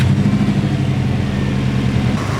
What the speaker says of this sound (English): the radiator fan's kicked on